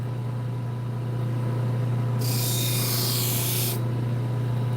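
A knife blade pressed against a motorized sharpening wheel turning away from the edge gives a bright, hissing grind for about a second and a half over a steady low motor hum.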